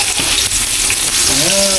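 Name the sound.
sautéing garlic and onion in a pan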